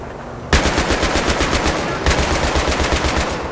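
Rapid automatic gunfire from a machine gun in Battlefield 3 co-op play, a dense, loud stream of shots with a sharp onset, a brief dip, then a second burst.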